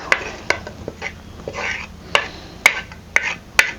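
Roasted chole masala spices are tipped and scraped onto a stone grinding slab, giving a run of sharp knocks and taps with soft scraping between them, close and fairly loud.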